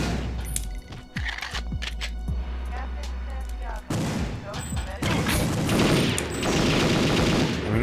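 Gunfire in the video game Perfect Dark, with rapid bursts and booming shots layered over game sounds, and a denser, louder burst of fire in the second half.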